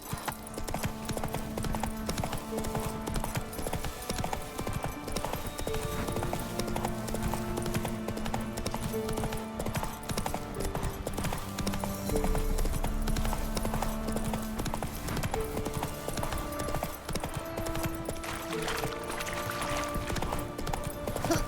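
Horse hooves clip-clop steadily in The Witcher 3 video game, a continuous rhythmic gallop mixed with game music and ambient sound throughout.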